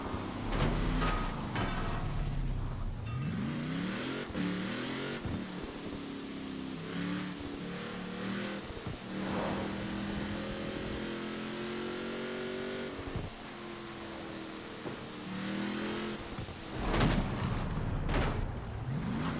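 A car engine in the Forza Horizon 5 racing game revs and accelerates through rising and falling gear sweeps, a steady close motor drone with sharp throttle surges and shifts, no talk.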